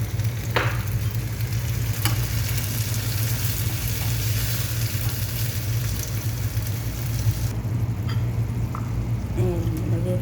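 Steady loud sizzling of fish frying in a pan, a continuous crackle with a low hum underneath and a few brief clicks.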